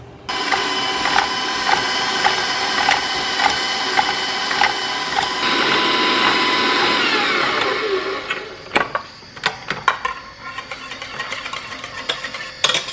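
A light mechanical rattle from an oven with steady whirring hum and small clicks, continuous for several seconds, then quieter intermittent ticking and knocks toward the end.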